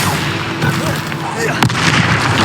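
Bombarda explosion spell in the Hogwarts Legacy video game, bursting as a loud boom amid continuous dense combat noise, with a sharp crack near the middle.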